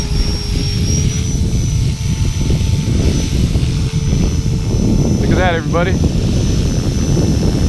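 A Blade 330S RC helicopter flies nearby with a steady, loud rotor and motor drone throughout, a brief rising-and-falling pitch sweep near the end as it maneuvers, and someone speaking briefly over it.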